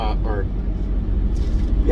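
A nearby truck rumbles with a heavy, steady low engine drone outdoors, close and continuous, with brief bits of a voice over it at the start and end.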